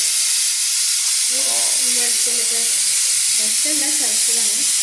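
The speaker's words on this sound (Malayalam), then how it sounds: "ഉലുവയും പെരുംജീരകവും വെളിച്ചെണ്ണയിൽ കിടന്ന്" Fenugreek and fennel seeds sizzle in hot coconut oil, a loud, constant hiss of frying with a faint murmur of voices underneath.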